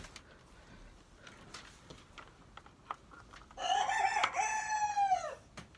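Chickens in a backyard coop at night, quiet faint clucks and rustling at first, then a rooster's loud, close drawn-out crow breaks in and tails off near the end.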